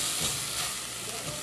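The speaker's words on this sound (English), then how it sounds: "Cook all the spices, ingredients, fresh herb for about 3 to 4 minutes." Masala spice paste, spices and fresh herbs fry in a pan with a steady, even hiss and sizzle.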